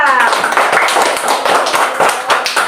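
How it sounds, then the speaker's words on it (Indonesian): Children in a classroom clap for a presenting group: a dense, steady patter of many small hands lasting a few seconds, close and fairly loud, with a voice briefly heard over it. "tepuk tangan buat kelompok 2"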